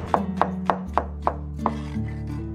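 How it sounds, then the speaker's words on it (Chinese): A knife cuts half an onion into strips on a board, about six evenly spaced sharp chops close by, with a low steady hum underneath. "准备半个洋葱，我们切丝。"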